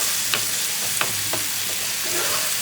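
Potatoes frying in gravy in a pan over a high flame for dhaba-style aloo, giving a steady close sizzle with a few brief stirring scrapes, no voices.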